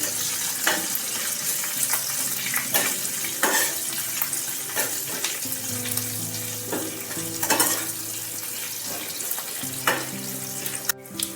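Slit green chillies in a tarka being stirred in a pan, a constant close sizzle broken by regular scraping strokes of the spoon and light clinks against the metal.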